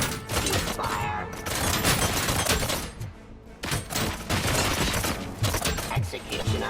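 Gunfire from the first-person shooter game RoboCop: Rogue City, dense and continuous with rapid bursts and clattering impacts, loud and close, running with brief dips throughout.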